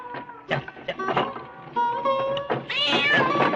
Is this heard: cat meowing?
yes